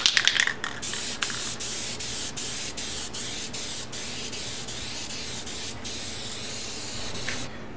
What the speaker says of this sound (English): Get a base coat of white lacquer on those.